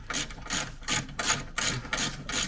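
Bolt being undone on the front bumper of a Land Rover Defender, a close ratcheting clicking in several quick bursts with short pauses, no talking.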